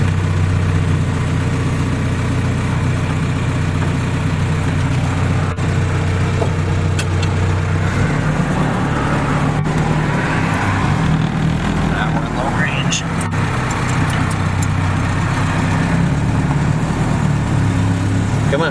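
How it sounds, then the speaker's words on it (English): A 1946 Willys CJ2A Jeep engine runs steadily on a test drive, a continuous low rumble and drone that holds close and loud throughout, with people talking over it. "We're just gonna take it on a little test drive so you can see how it"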